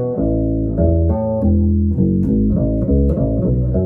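An electric bass plays a line with a thin, weak tone, a steady run of low plucked notes moving through changing pitches, close and moderately loud with no talking.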